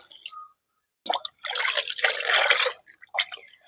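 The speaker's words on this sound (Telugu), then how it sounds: "8 డబ్బాలు వాటర్ ని కలుపుతున్నాను." Water is poured into a bucket to mix fertilizer in a few splashy bursts, a short trickle then a longer steady pour, close by and fairly quiet, with brief pauses between.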